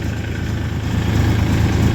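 A tractor engine hauling sugarcane on a foggy morning runs steadily and close, a low, loud, throbbing drone with an even pulsing beat.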